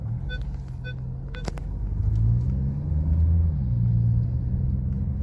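An oncoming vehicle passes close on a narrow road in Giuliana, Sicily. Its low engine rumble swells from the middle onward and holds, after a few faint chirps near the start.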